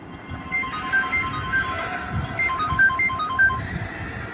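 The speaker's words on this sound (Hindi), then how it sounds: "ये रिंगटोन तो बढ़ती ही जा रही है।" A repeating electronic phone ringtone plays in steady melodic beeps over a low rumbling background, fairly loud and continuous.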